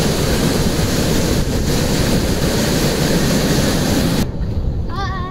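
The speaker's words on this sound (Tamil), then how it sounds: "அவ்வளோ ஃபோர்ஸாக தண்ணி விழுந்துட்டுருக்கு." Floodwater pours forcefully over the Thirukkovilur dam in a loud, continuous roaring rush. It cuts off abruptly near the end, leaving wind buffeting and a brief voice.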